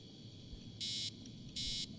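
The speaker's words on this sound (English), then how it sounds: "Get away from that beeping sound." Electronic beeping in Assassin's Creed Origins: two loud, evenly spaced high-pitched tones, each lasting about a quarter second, over a low steady background hum.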